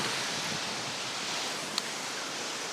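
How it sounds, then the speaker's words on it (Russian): Steady, broad rushing noise of strong wind buffeting the microphone outdoors at a gazebo roof build, constant and unbroken with no voices. "сегодня какой-то ветер очень дикий, страшный"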